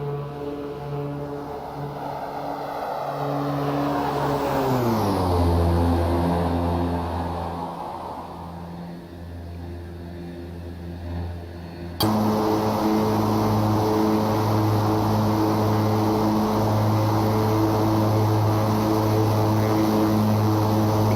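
A Beechcraft King Air 350i twin turboprop passes in a flight simulator flyby, its propeller drone rising and then sliding down in pitch as it sweeps past. The steady engine hum grows louder after the pass.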